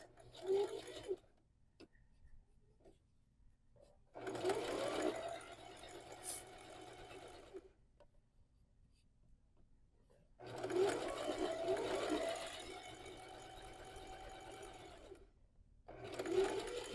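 A sewing machine stitches the seams of a fabric pumpkin in three separate runs, each a close, steady whirring hum of a few seconds, with quiet pauses between.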